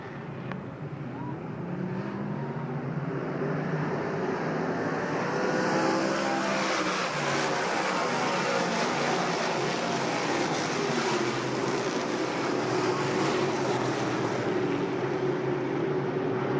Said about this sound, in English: We're back to green flag racing action.